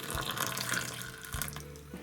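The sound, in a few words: hot water poured from a kettle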